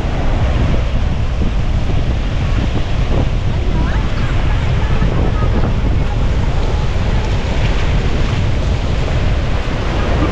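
Loud, constant roar of ocean surf on a beach at Casapsapan, Casiguran, with heavy wind buffeting the microphone and breaking waves blending into a continuous wash.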